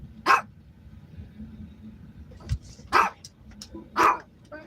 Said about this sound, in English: They're really good dogs once you get to know them.